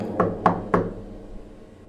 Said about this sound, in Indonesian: Tidak biasanya ada yang mengetuk.